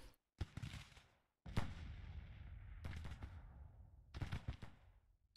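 Civil War troops in Grand Tactician fire massed volleys: three or four distinct booming bursts, each rolling out into a crackling, fading rattle of musketry, separated by brief silences, at modest volume.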